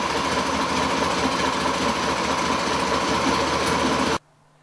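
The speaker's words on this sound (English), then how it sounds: "that has allowed the engine to pull back to idle in a normal way" A 1968 Porsche 911 engine idles steadily after carburettor tuning, a dense, even mechanical drone with a fast ticking rhythm, loud and close, running for about four seconds before cutting off abruptly.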